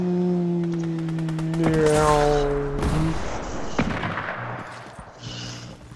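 Rapid gunfire in a shooter video game, bursts of sharp repeated shots alongside electronic tones and a heavy thud, with players talking over the action.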